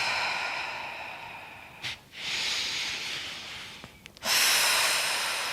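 Slow, audible breathing during a gentle hatha yoga stretch, with long airy inhales and exhales separated by short pauses, close and steady with no talk.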